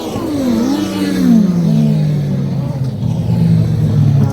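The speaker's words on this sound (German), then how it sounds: "Wir hören die Motoren" Several autocross buggy racing engines rev and whine at a final heat, pitches sliding up and down as they accelerate, loud and fairly close, with a faint voice underneath.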